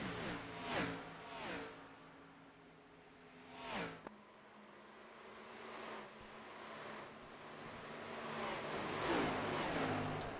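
A stock race car engine at Kansas runs under throttle, rising and falling in repeated surges as the driver feathers the pedal, fairly faint and distant with some broadband track noise.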